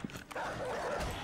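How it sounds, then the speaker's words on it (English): A zombie dog in 7 Days to Die yelps and barks in short, sharp bursts, fairly close, with a soft background hum between calls. "Damn it, this dog's freaking wrecking our place."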